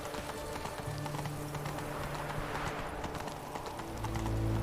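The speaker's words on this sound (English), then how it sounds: "Whoa there, Roach. Halt" Horse hooves clip-clop at a steady gait in The Witcher 3, soft and rhythmic under ambient game sound, with no speech.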